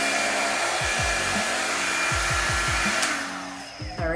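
Steady, loud whooshing airflow of a Revlon One-Step paddle hair dryer running continuously, with brief shifts in pitch and a drop in power near the end.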